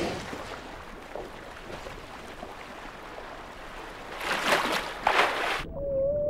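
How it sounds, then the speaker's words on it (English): Whale sonar calls in the deep ocean, low wavering cries amid an underwater wash, with two louder bursts near the end before a thin sustained tone fades in. "whales use their own sonar, making sounds which can travel many miles"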